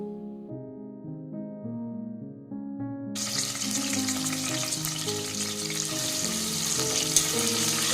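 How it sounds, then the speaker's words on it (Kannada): Sliced medium-size onions drop into a hot pan and begin frying, and a loud, steady sizzle suddenly starts partway through over background music that plays from the start. "ಈರುಳ್ಳಿನ ಚೆನ್ನಾಗಿ ಫ್ರೈ ಮಾಡ್ಕೋಬೇಕು."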